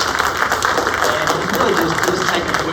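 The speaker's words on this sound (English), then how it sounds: "I just want to clap it up for Linda" A board meeting audience claps for a colleague, producing a steady, dense wash of applause that fills the short moment without a break.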